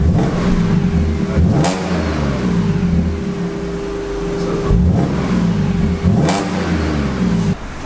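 Audi S5 exhaust with the rear silencer box deleted, revving in repeated rises and falls of a deep, throaty engine note, close and loud throughout with no talking.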